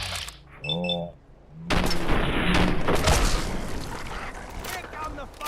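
Gunfire and explosions in the video game Fallout 4 erupt in a dense, loud, continuous barrage after a short lull, with a game character's voice heard briefly beforehand.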